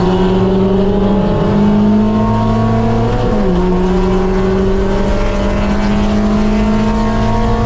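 Race cars in a drag race at NCM roar continuously and loudly throughout. Engine pitch rises and drops sharply, as in gear changes under hard acceleration, with no talk.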